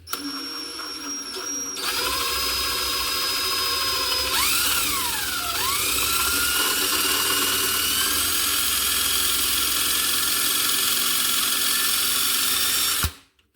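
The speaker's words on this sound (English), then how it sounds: "That must be a dull drill." A power drill with a dull, old bit whines steadily for several seconds, its pitch dipping and rising as the bit grinds, then cuts off abruptly.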